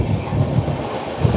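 Howrah–NJP Shatabdi Express train running round a curve near the Durgapur–Asansol main line, giving a steady loud rumble of wheels and coach body with a low rhythmic clatter throughout, no talking.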